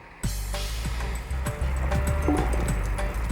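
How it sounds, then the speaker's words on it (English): Vehicle idling forward at under 5 mph, a steady low engine rumble running throughout, with a few soft knocks and faint clatter over the top and no talking. "Jamie moves off, gently idling along at less than 5 miles an hour"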